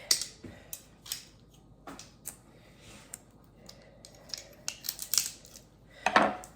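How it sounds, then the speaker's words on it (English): A kitchen knife minces garlic on a cutting board, an irregular series of sharp close taps and scrapes with brief pauses and a busier burst near the end. "So I'm mincing garlic."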